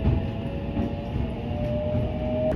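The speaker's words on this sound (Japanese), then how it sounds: "9時49分、辰野駅を稲北駅の臨時快速発車していきます" A special rapid train pulls out of Tatsuno station bound for Inakita, heard from on board as a steady low rumble of rolling wheels with a faint whining tone, no voices.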